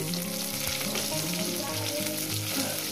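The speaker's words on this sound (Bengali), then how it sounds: "বেগুনগুলো একটু ভেজে নেব" Salted eggplant slices fry in oil with a loud, dense sizzle and spattering crackle, steady throughout, with faint stirring sounds underneath and nobody talking.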